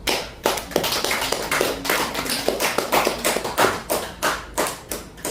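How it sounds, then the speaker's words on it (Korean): A congregation claps in unison for scholarship students at a church gathering, sharp rhythmic claps, about a dozen evenly spaced beats, fairly close and clear. "장학금 받은 우리 학우들 위해서 한번 박수합시다"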